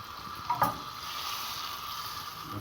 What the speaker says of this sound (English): we put it well in our frying pan, and we're going to fry our eggs as you see here.